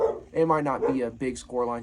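A pet dog barks and whimpers in short bursts indoors, mixed under a person talking about football predictions.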